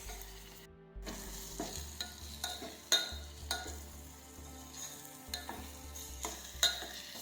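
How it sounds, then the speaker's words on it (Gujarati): Ginger sautés in a pan for garlic Schezwan chutney, giving a soft, steady sizzle under rhythmic spoon scrapes that land about every half second after a brief silent gap at the start. "હવે આપણે આદુ નાખી દઈશું આ રીતે આપણે સાતળી દઈશું"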